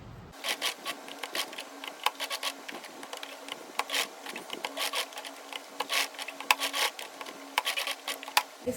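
A sewing machine stitches a blouse, its needle running in short rapid bursts of close mechanical whirring and clattering, stopping and starting repeatedly.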